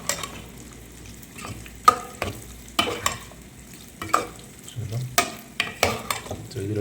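Mint and coriander leaves added to a pan of frying potatoes with cinnamon and cloves, a soft sizzle under repeated sharp scrapes and knocks of a spoon stirring against the pan.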